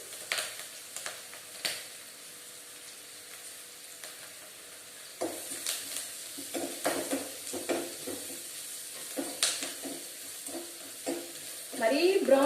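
Onions fry in a pan for a poori curry, a soft sizzle broken by scraping stirs, quiet at first, then busier clinks and scrapes of the spatula in the second half.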